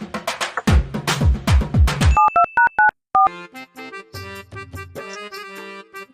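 A phone call is dialed, with a quick run of clear keypad tones followed by a stretch of steady electronic call tones.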